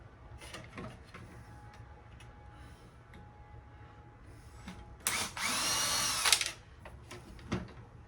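A power drill whirs for about a second and a half, close and fairly loud, removing the small screws from an old air conditioner's motor, with quiet handling clicks before and after.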